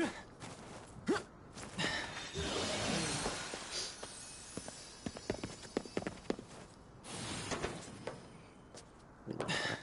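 Repeated hoof clip-clops from a horse in the game Ghostwire: Tokyo, with some busy overlapping effects and a few brief sharp clatters.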